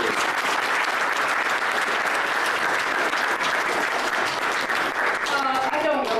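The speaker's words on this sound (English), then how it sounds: "Can we have just a round of applause for Janet?" A sustained round of applause for Janet fills the room, a dense, even wash of clapping from a gathered audience, with a voice starting to speak as it fades at the end.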